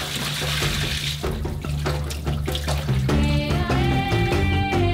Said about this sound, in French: Ensuite, égouttez l'eau.